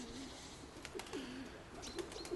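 A pigeon, a steel-colored homing hen, coos softly a few times at some distance, low and faint over a steady background hiss.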